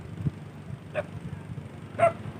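Two short, faint dog barks about a second apart, somewhat distant, over a low background hum.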